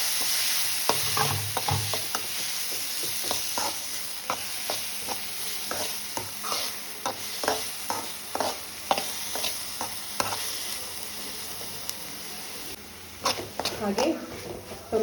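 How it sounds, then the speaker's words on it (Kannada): Tomato fries in a pan with ladies' finger and is stirred. A ladle scrapes and taps in a quick, uneven rhythm over a soft, constant sizzle, with a busier burst of stirring near the end. "ಹಾಗೆ ಟೊಮೆಟೊ ಫ್ರೈ ಆಗಿದೆ"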